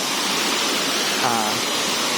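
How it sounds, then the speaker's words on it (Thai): Huay Mae Khamin waterfall in Srinagarind Dam National Park, Kanchanaburi, gives a steady, dense broadband rush of falling water. It fills the scene evenly with no pauses, and a faint voice briefly rises over it. "น้ำตกห้วยแม่ขมิ้นนะครับ นี่ฮะ"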